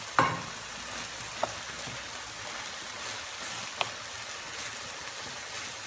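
Mushrooms for a cannelloni filling fry in a pan alongside meat, giving a steady, soft sizzle with a few faint utensil clicks and no voices.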